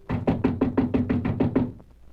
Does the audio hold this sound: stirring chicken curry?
no